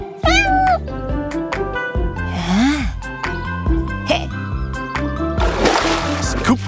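A cartoon kitten in a French children's animation meows repeatedly, with bright high-pitched cries over busy music and sound effects, including splashy water noises.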